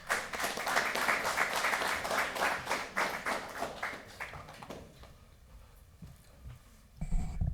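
Clapping from an audience at a military signing ceremony, steady and full for several seconds before thinning out into scattered claps, then a short burst of handling noise at the end.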